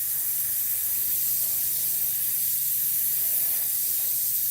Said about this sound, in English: We're spraying really, really thin on here.